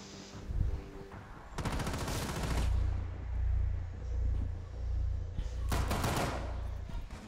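Two bursts of rapid automatic gunfire in the tactical shooter game Rainbow Six crackle loudly, with a deep low rumble from the game running between and beneath them.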